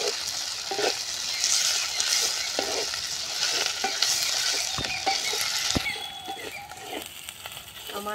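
Ground ginger, garlic and green chili paste with onion frying in a pan, a continuous close sizzle broken by repeated clicks and scrapes of a spoon stirring against the pan.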